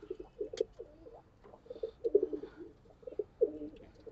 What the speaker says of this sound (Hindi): ताखा कबूतर है।